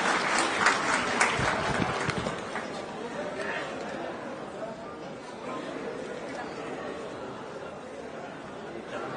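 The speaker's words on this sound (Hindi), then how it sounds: "उनको आने के पहले उनको जोरदार तालियों से स्वागत करें" A crowd claps loudly at a political ceremony in a Patna office hall, with dense applause mixed with chatter, sharp bursts early then sustained clapping for several seconds.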